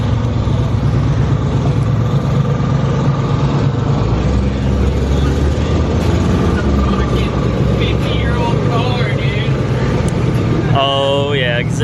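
A 1969 Mustang's 302 V8 runs on a dyno with a loud, continuous engine drone throughout, and voices can be heard over it near the end.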